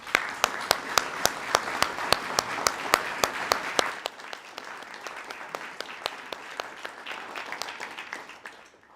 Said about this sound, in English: I wonder if we could now give them a round of applause.